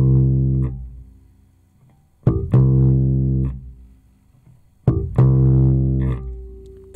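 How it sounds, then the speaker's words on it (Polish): On a bass guitar, a muted ghost note is plucked just before each fretted C, and the pair repeats three times. Each note rings loudly and decays. "zagramy sobie dźwięk C"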